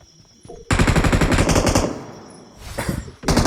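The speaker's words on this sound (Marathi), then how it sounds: "पाठीमागे फायरिंग आहे." Loud automatic gunfire in the mobile battle royale game BGMI (PUBG Mobile): a long rapid burst, then a brief pause and another burst, close and dominant, with no talk.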